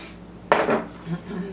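A non-stick pan is set down on the stove with a teaspoon of olive oil over medium-high heat, a single sharp metallic clunk with a short scraping rattle, then quiet.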